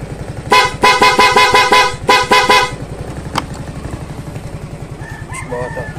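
Loud aftermarket horn on a Yamaha Fazzio 125 scooter blares in two close, brassy bursts of rapid pulses over the running engine, followed by the idling motor and a faint rooster crow in the distance.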